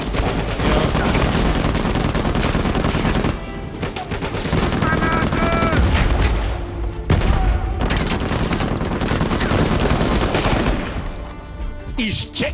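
Rapid automatic gunfire and shooting bursts from a firefight in the action game Uncharted 4, loud and dense for most of the stretch with brief lulls, some voice mixed in.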